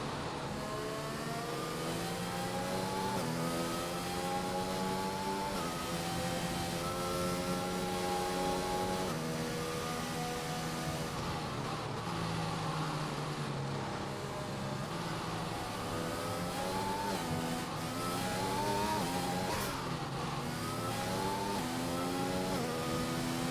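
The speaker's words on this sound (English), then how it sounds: "this safety car is going flat out" A Formula 1 video game safety car runs flat out around Melbourne's Grand Prix circuit, its steady high engine note rising and falling through gear changes and corners, loud and continuous with no talk.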